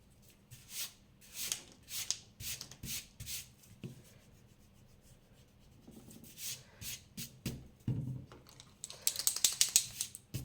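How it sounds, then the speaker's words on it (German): A worn rubber eraser rubbing out pencil lines on paper, heard as quiet bursts of quick back-and-forth scrubbing with pauses between strokes and a denser flurry near the end. "Jetzt wollte ich da die Bleistiftlinie noch wegradieren."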